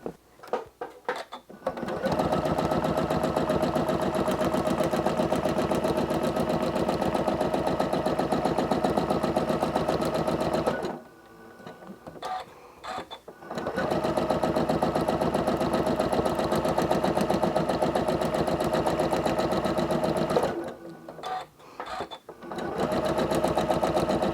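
A sewing machine free-motion quilts a paisley flower design on a nine-patch block, its fast mechanical chatter running loud and close in long bursts separated by short pauses.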